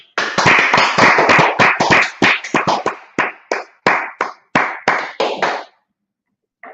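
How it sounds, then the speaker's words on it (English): Audience clapping at a talk, loud and close, starting as a brisk burst of many hands and thinning to separate sharp claps that space out and stop, leaving a short silence at the end. "Let's clap it up."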